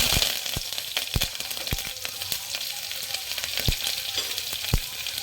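Chopped onions and curry leaves fry with cumin seeds in a hot pan, a constant close sizzle broken by sharp, irregular clacks of a spoon stirring against the metal.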